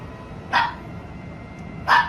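A dog barks twice, about a second and a half apart, each bark sharp and moderately loud against a steady background hiss.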